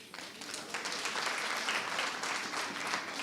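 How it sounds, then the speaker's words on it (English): Delegates at a national congress applauding, a steady dense patter of many hands clapping in a hall, moderately loud and unbroken. "I hear people are clapping hands"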